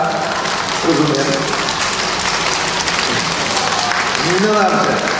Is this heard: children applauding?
yes